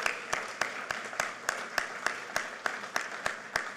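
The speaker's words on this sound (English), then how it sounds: "Give them a big round of applause." A crowd at a presidential speaking event claps for data center workers, producing a quiet, even stream of sharp claps at a regular pace.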